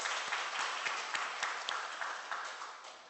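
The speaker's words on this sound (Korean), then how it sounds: "우리 박수로 축복하겠습니다" Church congregation applauding together, a steady wash of many hands clapping at a moderate distance for about three seconds with no voices.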